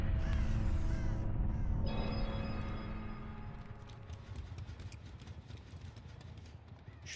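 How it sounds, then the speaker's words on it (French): A crow caws in the Dead by Daylight video game, rising over a loud mix of hoofbeat-like clatter and game ambience that fades after the first couple of seconds. "Le corbeau vient de se replacer."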